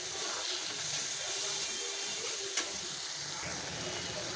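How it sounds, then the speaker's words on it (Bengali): Coriander and cumin spice paste sautés in a pan with a soft, steady sizzle and occasional stirring scrapes, heard close and fairly quiet, with a sharp clink at the very end. "ধনে আর অল্প একটু জিরে গুঁড়ো। এটা ভালোভাবে কষিয়ে"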